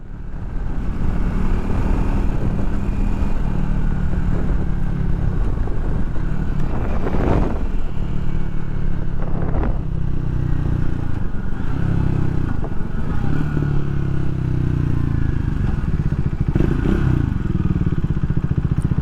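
A Triumph Speed 400 motorcycle's single-cylinder engine drones loud and continuous at cruising speed, with wind buffeting and a few shifts in pitch as the rider changes gear and throttle, no voices over it.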